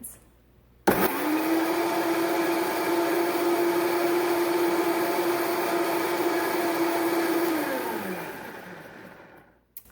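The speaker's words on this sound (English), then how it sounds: "put that in our blender and just blend it here for a few seconds" A kitchen blender whirs steadily for about seven seconds while blending a garlic sauce with veggie broth. Its motor tone stays loud and constant, then winds down and stops.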